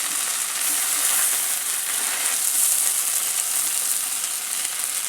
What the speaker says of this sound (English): I'll continue stirring until the rice blends with the mixture